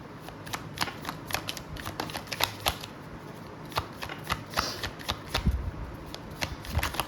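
A deck of oracle cards is shuffled by hand, producing a steady run of crisp riffling slaps and flicks close up, with no talking.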